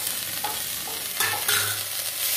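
Eggplant and onion frying in stingray fish oil in a home kitchen pan, a constant sizzle broken by a few clattering stirs midway, close-up and without speech.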